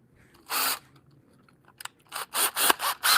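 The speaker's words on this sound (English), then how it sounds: "Forstner bit, that's what I'm using right now." A Forstner bit in a Ryobi 18 volt cordless drill bores into wood. One short grinding burst comes first, then after a pause a run of rapid, rasping pulses, close and fairly loud.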